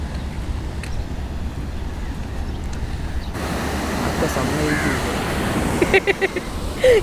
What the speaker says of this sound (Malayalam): ഫ്രണ്ടിൽ കടൽ